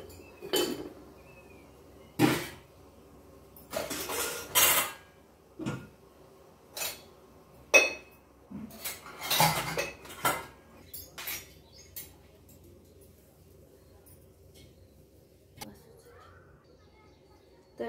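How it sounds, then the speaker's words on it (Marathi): Freshly washed dishes and glasses being put away in a home kitchen: scattered clinks and clatters of crockery and glass, a dozen or so separate knocks spread unevenly through a quiet room. "भांडे वगैरे होते थोडेसे ते स्वच्छ केले, आता लावून घेते।"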